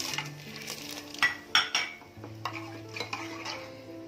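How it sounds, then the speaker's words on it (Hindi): Cinnamon, green and black cardamom go into smoking-hot oil in a pot for mutton paya and are stirred, giving close metallic clinks and scrapes over a faint sizzle, with no speech. "बस 1 से 2 सेकंड तक सौते करेंगे"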